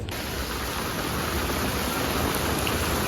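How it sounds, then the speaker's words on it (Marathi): Heavy rain pours down continuously, a dense, loud, even roar of falling water that holds steady from start to finish with no voices. "भरपूर पाऊस पडतं"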